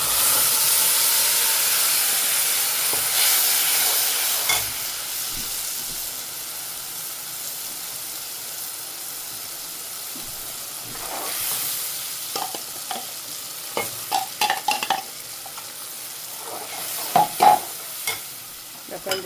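Masala frying with ginger and garlic in a pan for a Gujarati vegetable curry, a strong hissing sizzle that fades, then spoon scrapes and stirring clatter in bursts toward the end, with no talking.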